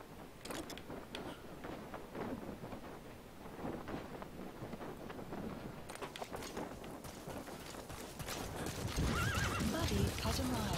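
A horse in the video game Metal Gear Solid V: The Phantom Pain whinnies repeatedly over clip-clopping hooves and wind, with someone talking over the game audio.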